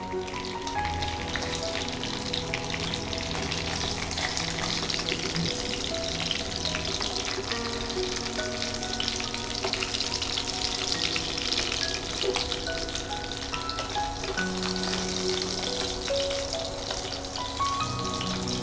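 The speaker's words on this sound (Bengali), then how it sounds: "আমাদের মাছ ভাজা কমপ্লিট, আমরা এবার মাছগুলোকে তুলে নিই।" Koi fish fry in hot oil with a continuous close sizzle and crackle, while the pieces are lifted out one at a time with light clinks and scrapes.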